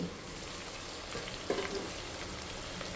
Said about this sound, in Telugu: ఇవైతే బాగా వేగాయి ముక్కలు కూడా, చూడండి